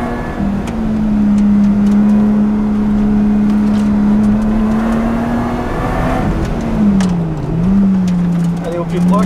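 A 500 hp Lotus on a track day holds a loud, steady engine drone close by as it accelerates, with the pitch sagging and recovering near the end, and a voice talks over it.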